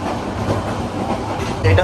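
The Cox's Bazar Express rumbles along with a steady low roar and faint wheel clatter, heard from inside a non-AC passenger car. Talk sounds faintly in the carriage.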